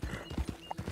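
Horse hooves clip-clop in quick steady beats in the Red Dead Online video game, with a faint whinny mixed in, close and moderately quiet.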